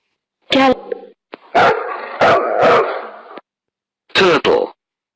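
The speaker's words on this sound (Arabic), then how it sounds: "كلب dog" A dog barks several times in short, loud bursts close by, with brief gaps between barks.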